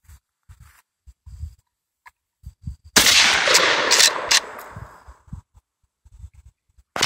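A Stoeger P350 pump shotgun fires one loud, sharp blast that rings out with a long echoing tail, set between softer clicks and handling noises from the action before and after.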